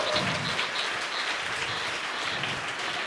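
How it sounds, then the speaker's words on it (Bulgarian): Audience applauding at a 2012 award ceremony as a first-place prize is announced, a soft, continuous patter of many hands heard from a distance, even and unbroken. "Честито, аплодисменти!"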